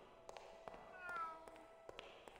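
A small cat meows in the adventure game Grim Fandango, a soft rising mew near the middle of the clip over faint game ambience and light tapping clicks.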